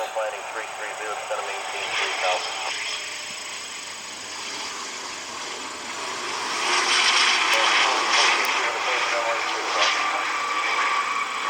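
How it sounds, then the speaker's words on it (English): A business jet flies inbound near Cleveland, giving a steady broadband engine roar that builds louder toward the end, with no one talking. "Got another business jet inbound. Lots of business jets today."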